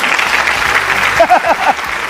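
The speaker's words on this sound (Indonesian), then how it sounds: "Tepuk tangan lu dong." A studio audience applauds after a song on a talk show, a sustained wash of clapping while voices speak over it partway through.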